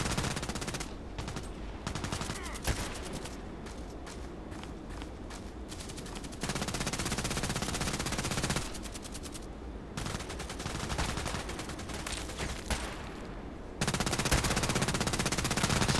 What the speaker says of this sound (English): Somebody's shooting at me, I think.